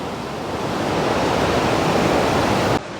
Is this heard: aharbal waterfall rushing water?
yes